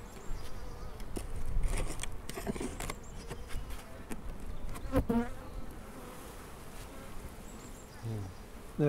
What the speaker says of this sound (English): we've got a pretty full brood box of bees